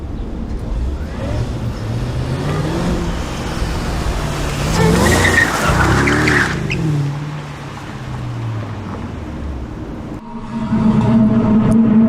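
Car tires squealing as the car is pushed hard through turns, with a GoPro mounted inside a tire, the skidding screech rising and falling over steady engine and road noise.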